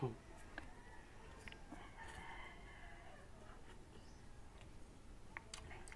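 Chickens cluck and a rooster crows faintly in the distance against a quiet outdoor background, with scattered short calls.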